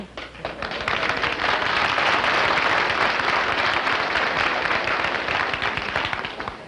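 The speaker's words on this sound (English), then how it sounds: "Well, that certainly warrants applause, I must say." A large studio audience claps steadily and enthusiastically, a dense wash of applause swelling in and holding for several seconds with no talking.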